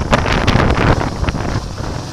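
Loud wind buffeting a microphone on a moving Honda Transalp XL 700 motorcycle, a steady rough rush with gusty bursts throughout.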